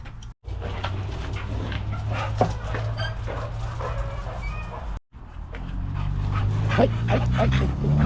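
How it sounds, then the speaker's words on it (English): A neighbour's dog named Puma yips and whimpers in short, excited bursts over a steady low background rumble, close by, with brief gaps in the sound. "This is my neighbor's dog."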